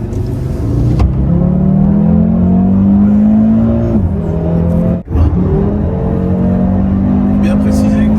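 Engine of a 2020 Audi RSQ3 Sportback in auto comfort mode, a steady loud drone that rises in pitch, dips briefly, then climbs again, close and continuous with people talking over it.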